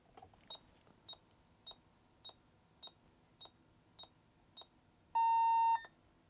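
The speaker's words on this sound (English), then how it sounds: "we did get the beeps that the diagnostic makes when it starts up" A ZX Spectrum +3 running a diagnostic ROM gives a start-up sequence of nine short, evenly spaced electronic beeps, followed by one longer, louder tone.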